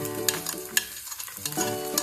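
Chopped garlic and cumin frying in a pan, a crackling sizzle with scraping stirring strokes and a metallic ringing tone, close and fairly loud.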